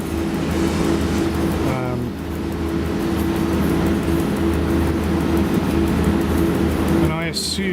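A train runs in the SimRail train simulator video game, a steady mechanical drone with low hum and tonal whine, continuous and close, with short tonal sweeps near the start and end and someone talking over it.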